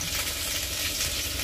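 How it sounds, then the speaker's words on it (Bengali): Eggplant and tomato fry with dried fish in a pan, giving a steady, even hiss of sizzling oil heard up close for a brief moment, with no voices. "আমি এখানে একটু 2টা বেগুন ছিল আর একটা টমেটো দিয়ে ওই শুকনো মাছ দিয়ে ভাজা করছি।"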